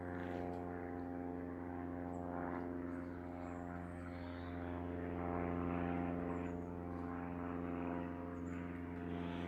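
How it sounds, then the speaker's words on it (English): An aeroplane passes overhead outdoors, heard as a steady, faint propeller-engine drone with a low hum that swells slightly in the middle before easing, with no other sounds over it. "Now we've got an aeroplane coming over."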